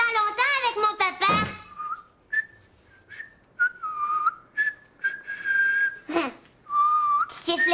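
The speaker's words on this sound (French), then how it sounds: "Tu siffles bien, papa." A person whistles a short, wavering melody in several phrases, close and clear, with brief soft voices and breaths between the notes.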